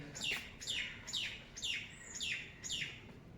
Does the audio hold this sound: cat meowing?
no